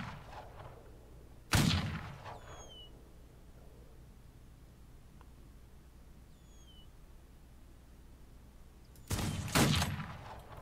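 Two loud bursts of gunfire in the Old West shooter game Outlaws of the Old West, one near the start and one near the end, separated by a long quiet stretch.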